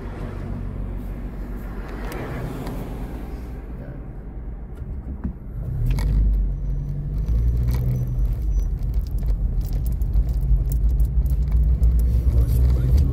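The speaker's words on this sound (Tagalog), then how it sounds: "it's still like traffic" Road traffic rumbles from inside a car on a Sunday, a low steady engine and road drone that grows heavier as the vehicle moves off, with voices talking over it.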